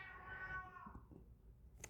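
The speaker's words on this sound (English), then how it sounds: "That was my cat." A house cat gives a single drawn-out meow that slides downward, faint against a low room hum, followed by a small click.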